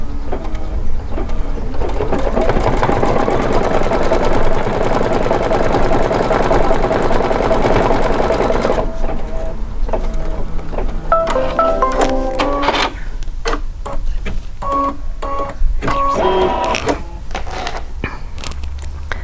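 A Kimberbell embroidery machine stitches a design at a steady, fast mechanical pace, its whirring hum giving way to choppier, rhythmic needle bursts with brief pauses, close and loud with no talk.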